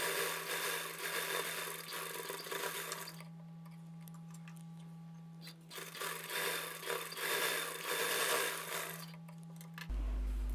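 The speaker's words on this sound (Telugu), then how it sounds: "ఇక్కడ నుంచి షేప్ బెల్ట్కి టాప్ స్టిచ్ వేసేసుకోవాలి" Sewing machine top-stitching the shape belt of a blouse front, a steady close mechanical whir running in two long bursts with a short pause between, then stopping near the end.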